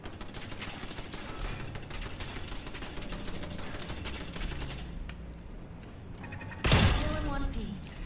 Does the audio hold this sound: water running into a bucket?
no